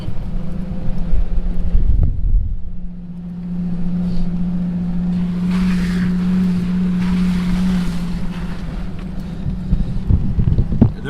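A low off-road vehicle engine hum runs steadily while it drives through water in the Mojave Desert, sloshing and splashing around it, with a burst of splashing near the start and again at the end.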